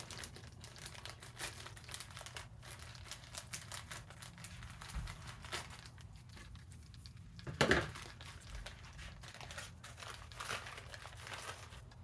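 Plastic of a brown sugar bag crinkles and rustles at close range, with a brief sharp scissors snip partway through as it is cut open, all fairly quiet.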